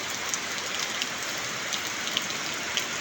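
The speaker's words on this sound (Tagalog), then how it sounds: "Maulan na panahon." Steady rain falls over the countryside of the Bicol region during the rainy season, a soft, even hiss of drops on the ground with occasional brighter patters, no voices.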